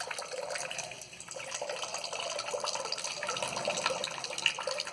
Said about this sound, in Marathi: आता हे पाणी पूर्ण संपल्यानंतरच, भांडं रिकामं झाल्यानंतरच ही धार पाण्याची जी आहे ती थांबेल.